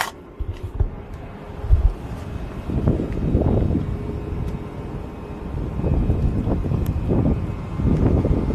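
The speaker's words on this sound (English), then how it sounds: "God damn, it's windy out here." Strong wind buffets a microphone outdoors in heavy, low gusts that rise and fall across the whole stretch, with no clear talk over the rumble.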